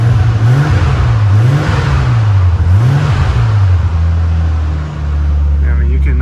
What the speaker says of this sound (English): you can hear the turbo from inside the car